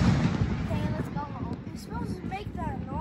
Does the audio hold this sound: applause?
no